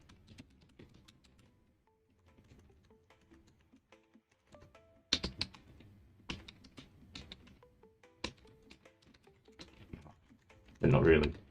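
Sparse, irregular key taps on a computer keyboard, quiet and close, with a louder burst of clattering near the end.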